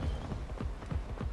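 Horses gallop in the video game Ark Survival Ascended, with a quick, rhythmic run of hoofbeats at moderate volume and no voice over them.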